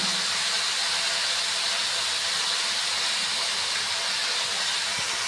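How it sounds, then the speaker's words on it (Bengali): Chopped ash gourd fries with salt in a pan, a loud, dense, unbroken hiss that holds steady from start to finish without any talking. "লবণ দিয়ে ভালো করে একটু ভেজে নেব"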